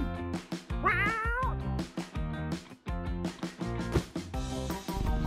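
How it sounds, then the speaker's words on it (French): A pet cat meows once, a brief rising cry heard over loud, busy music with a steady beat that plays throughout. "Tu peux arrêter de toucher mon chat?"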